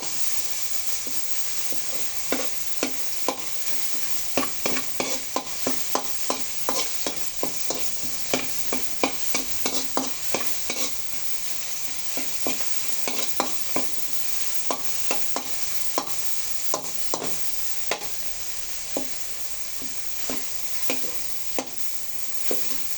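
Chayote with sardines and tomato fries in a pan, a constant soft sizzle broken by repeated sharp clicks and scrapes of a utensil stirring, steady over twenty-odd seconds.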